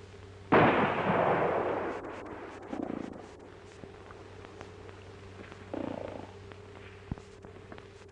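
A single loud gunshot fired at a playing card target in an outdoor 1940s Western setting, a sharp blast with a short decaying tail, followed by quieter thuds.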